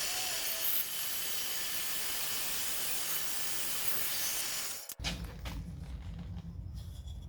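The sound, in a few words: saw cutting timber for a wake bait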